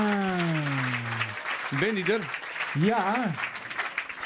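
An audience applauds the winner announced at an award ceremony; steady clapping runs throughout beneath close, conversational speech.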